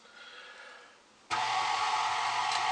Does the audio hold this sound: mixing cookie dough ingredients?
yes